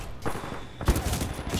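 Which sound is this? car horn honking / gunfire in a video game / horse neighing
gunfire in a video game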